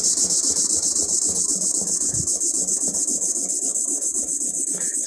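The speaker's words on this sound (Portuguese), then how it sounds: "Ele já vai sair daqui quase polido quando eu lixar na lixa 800." An old coin pendant is sanded on 800-grit sandpaper in quick, rhythmic back-and-forth rubbing strokes, close and continuous, with a faint high squeal running throughout.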